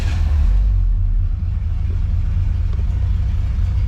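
A 1980 Pontiac Trans Am with a swapped-in 400 engine idles close by, a steady low rumble with a slight uneven grumble and no revving, alone without talk.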